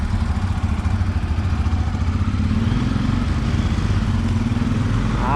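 A motorcycle engine drones steadily and loudly at close range while riding, with a rough pulsing throb that holds constant throughout.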